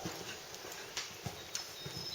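Horse hooves clip-clop at a steady rhythm during a riding lesson in an arena, the beats moderately close and fairly soft over a quiet background with no talk.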